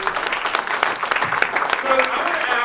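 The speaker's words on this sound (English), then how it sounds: "Round of applause to all of you." Audience applause at SpinUp, a drone conference, a lively clatter of clapping from an indoor crowd with a voice or cheer mixed in.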